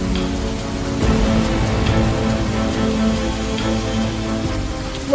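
Steady rain falls without pause in a dramatized folk tale set near a wild jungle village during days of storms, a dense continuous hiss with low rumbling underneath and no speech.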